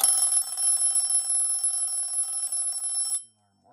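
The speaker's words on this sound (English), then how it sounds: "I did just run the alarm. Check this out." A Westclox alarm clock rings loud and close with a continuous rapid metallic bell clatter for about three seconds, then cuts off abruptly into silence.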